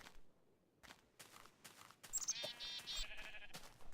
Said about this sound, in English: There's another black sheep.